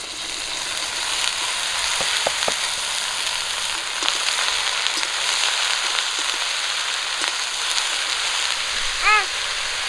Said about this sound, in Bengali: কাঁচা লঙ্কা পেঁয়াজ সব কিছু ভালো করে ভেজে নিয়েছি। ধুয়ে কেটে রাখা কচুর ফুল দিয়ে দেবো।